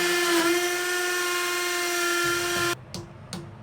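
An electric drill bores through a shelf, a loud, steady high-pitched motor whine that holds for nearly three seconds, then cuts off and gives two brief, fading spin-downs.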